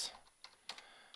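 A few light, separate keystrokes on a computer keyboard as a folder name is typed, quiet and close, spaced irregularly with short pauses between taps.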